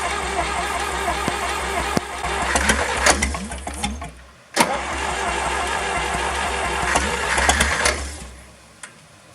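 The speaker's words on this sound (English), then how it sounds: "we're going to go ahead and turn this thing over and see if we have any spark" A John Deere 1010 crawler's engine, with no choke linkage, cranks with a rapid mechanical chatter, pauses briefly, then cranks again and catches into a rough running rhythm, loud and close, before cutting off.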